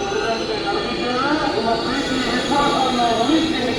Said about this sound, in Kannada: ನೀವು ಈಗ 10ನೇ ಪ್ಲಾಟ್ಫಾರ್ಮ್ಗೆ Shivamogga town KSR Bengaluru Jan Shatabdi express ಬಂದೈತ್ರಿ